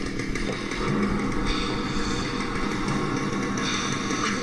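Chainsaw engine in a cartoon chase scene, a continuous buzzing drone at moderate level with small fluctuations in pitch, heard alone without speech.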